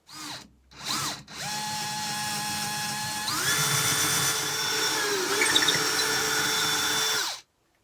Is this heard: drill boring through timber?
yes